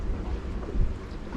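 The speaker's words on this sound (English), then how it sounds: "the wind's gusting" Gusting squall wind on a sailboat off Baja California, a brief, heavy, low buffeting roar with no voices.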